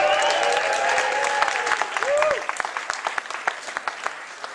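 Audience applause at a roast event, a sustained wash of clapping from the crowd that thins into scattered individual claps toward the end, with a voice and a whoop briefly rising over it.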